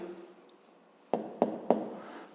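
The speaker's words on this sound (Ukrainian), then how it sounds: "Пишемо відповідь." Pen strokes on paper as an answer is written for a fifth-grade maths problem: three short, sharp taps or scratches in steady rhythm, close and clear, after a quiet stretch.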